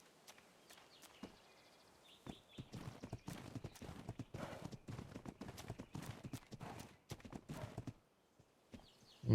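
Horse hooves clip-clop in a steady walking rhythm in the ARK video game, with a short neigh partway through and a louder burst at the very end; the sound stays fairly quiet and there is no talk.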